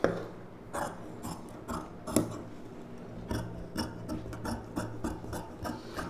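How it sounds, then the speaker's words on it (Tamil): Scissors snip through silk saree fabric while a puff-sleeve blouse is cut out, giving a close run of crisp, rasping cuts, roughly a dozen spaced strokes at an irregular pace, with no talking. "இப்போ நம்ம இதை வந்து அப்படியே கட் பண்ணிக்கலாம்."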